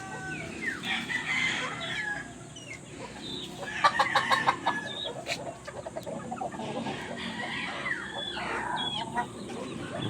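A white kelso fighting rooster and hens in a farmyard, heard as a crow rising over scattered clucking and other fowl calls, moderately close with soft background noise and no talking.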